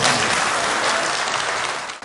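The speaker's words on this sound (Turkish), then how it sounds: "Konuşma sonrası meclis salonundaki işçiler Başkan Büyükelçin'i dakikalarca ayakta alkışladılar." Sustained applause from workers giving a standing ovation in a council hall, dense and steady clapping filling the room for about two seconds before dropping off abruptly.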